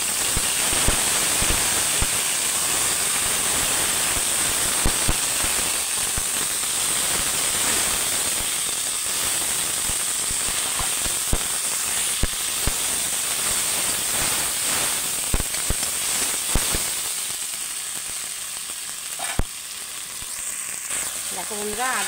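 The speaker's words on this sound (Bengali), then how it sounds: "আদা টমেটোটা আমার হালকা করে ভাজা হয়ে গেছে" Tomato and ginger paste sizzle and crackle steadily in hot oil in a wok, a dense continuous frying hiss with scattered sharp pops and stirring scrapes, fairly close, quieting near the end.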